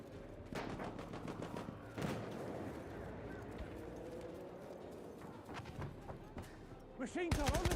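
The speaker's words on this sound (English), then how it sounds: "Machine gun over there." Rapid, sustained machine gun fire in the video game Battlefield 1, heard as dense rattling bursts throughout, with a player talking over the gunfire and a louder burst at the end.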